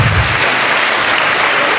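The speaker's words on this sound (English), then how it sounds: "can we just give them one more round of applause, please?" A school audience at a Grade 3 annual day production bursts into loud, sustained applause, a dense steady wash of clapping throughout.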